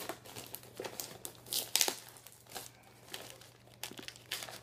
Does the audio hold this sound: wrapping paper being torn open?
yes